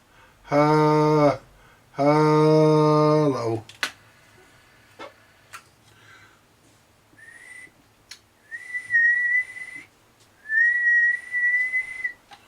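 Whistling goes into a Midland CB radio converted to run on 240 volts AC and set to SSB, heard back as two sustained steady tones. Earlier come buzzy harmonic bursts and scattered clicks.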